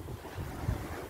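Sea waves breaking on a beach make a steady, low rumbling roar mixed with gusty wind buffeting the microphone, with one slightly stronger surge midway.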